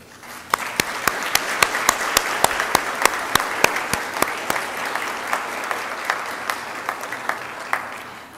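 An audience at an academic excellence awards ceremony applauds a third-place essay contest winner, steady applause with a few distinct, regular hand claps standing out over the crowd, sustained and fairly loud throughout.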